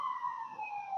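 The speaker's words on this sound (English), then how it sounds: "Is that an ambulance?" An ambulance siren wails steadily with a gliding tone, sounding moderately distant and carrying alone without any voices over it.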